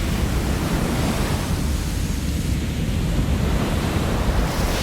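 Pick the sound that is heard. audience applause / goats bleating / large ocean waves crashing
large ocean waves crashing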